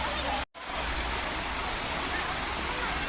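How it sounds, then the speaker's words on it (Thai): Sai Yok Noi waterfall in Thong Pha Phum pours in a steady broadband rush, loud and continuous, with a brief dropout near the start and no clear voices. "แวะอีกที่หนึ่งก็เป็นน้ำตก ไซยกน้อยนะครับ"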